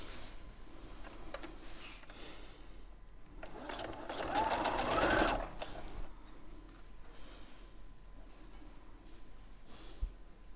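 A sewing machine runs for about two seconds as its feed dogs pull quilting fabric through, a fast mechanical rattle rising from a quiet room, with scattered ticks before and after.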